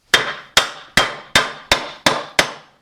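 Seven sharp, evenly spaced metallic hammer blows ring out on a chisel used to separate brake parts on a 1965-66 Ford Thunderbird, each strike loud and close with a short decaying clang.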